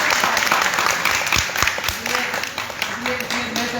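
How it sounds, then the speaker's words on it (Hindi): A crowd of pilgrims at Brahma Giri near Jagannath Puri claps loudly and close by in a dense, continuous burst of applause, with voices talking underneath. "ताली बजाओ तुम लोग।"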